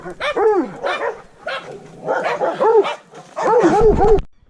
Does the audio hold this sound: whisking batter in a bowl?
no